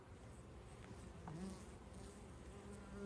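Soft, steady buzzing of honey bees close by, a continuous low drone with a few louder passes.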